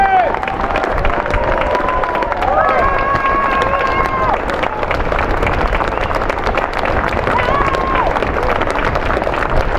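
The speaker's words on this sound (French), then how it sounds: "on peut les applaudir" Audience at a Miss France contestant parade, a steady dense crowd roar with clapping and cheering filling the whole stretch, loud and continuous with tonal music-like lines weaving through it.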